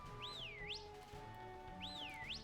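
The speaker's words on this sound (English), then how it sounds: "There's a whistle button." A rising-and-falling whistle call from the Pokemon Scarlet game sounds twice, clear and tonal over a faint game music bed.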